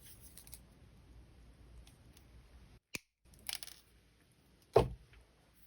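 A single crisp snip cuts a 2-inch length of material for a handmade toggle clasp on a copper washer bead bracelet. Faint handling sounds and a couple of soft clicks come before the cut in an otherwise quiet room.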